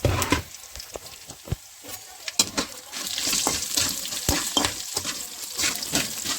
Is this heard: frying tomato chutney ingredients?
yes